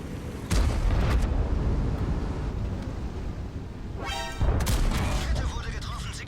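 Heavy tank cannon in World of Tanks firing at Waffenträger tank destroyers, loud booming shots near the start and again around the four-second mark, each with a rolling rumble and tail, under steady battle noise.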